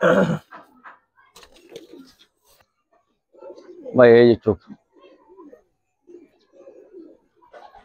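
Giribaz pigeons of an old breed give a single clear cooing call in the middle, loud and close, with someone talking briefly at the start and quieter murmuring and faint calls around it.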